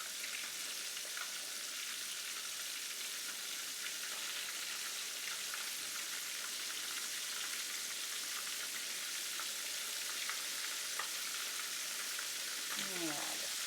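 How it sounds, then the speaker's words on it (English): Chicken fingers fry steadily in hot oil, a constant, close, hissing crackle with dense popping that carries on without pause. "Yeah, just keep on frying them up."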